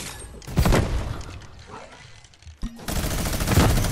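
AK rifle fire in Fortnite: loud bursts of automatic shots open the clip, fade through a quieter stretch, then a sharp crack leads into another sustained volley.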